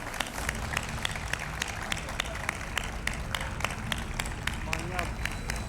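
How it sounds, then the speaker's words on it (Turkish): Audience at a motorsport federation gala night at Zorlu PSM claps steadily in a dense, moderate-level patter over a low background hum of the hall, with faint crowd murmur mixed in. "Alkışlar bu güzel aileye."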